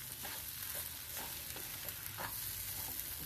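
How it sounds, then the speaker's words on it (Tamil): Ghee, semolina and grated coconut are stirred in a heavy kadai over a low flame, giving a soft continuous sizzle broken by the gentle scraping pulses of a spoon, close and quiet. "நல்லா இந்த நெய் ரவை தேங்காய் பூ எல்லாம் நல்லா கலந்துட்டு"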